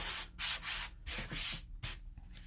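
A fine grit sanding block, about 180 grit, is rubbed back and forth over wood in steady rhythmic strokes, each a loud, close, hissing scrape with brief pauses between.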